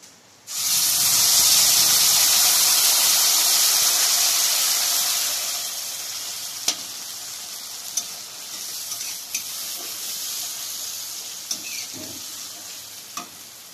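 Ground spice paste hits hot oil with panch phoron in a pan for lemon rohu curry, bursting into a loud close sizzle that settles to a steady hiss, punctuated by sharp clinks of stirring.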